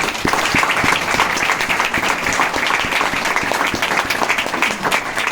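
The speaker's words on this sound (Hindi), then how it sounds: "जोरदार तालियां" Loud, dense applause from a large crowd, steady and sustained with no pauses.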